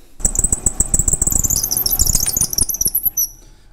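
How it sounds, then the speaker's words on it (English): Drill bit side flutes squeak while cutting into hard cast metal on a prototype front bolster casting, giving a close, rapid run of high chattering squeals over dense tapping grinding pulses that stops abruptly near the end. "But the squeaking noise you heard, that was the side flutes"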